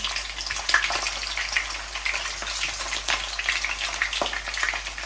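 Homemade Thai meatballs fry in a modest amount of hot oil, giving a steady, close crackling sizzle with scattered pops throughout.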